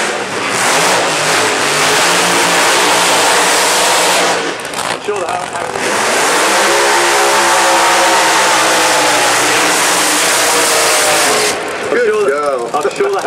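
Funny cars do burnouts at Santa Pod Raceway, England, in a drag racing main event: loud, sustained engine roars with revving and tyre screech, a brief dip midway, then another long blast and a sputtering finish, with voices faintly underneath.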